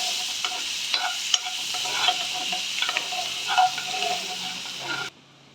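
Cashews frying lightly in a kadai, a soft continuous sizzle with repeated scraping stirs, close and moderately loud, ending abruptly.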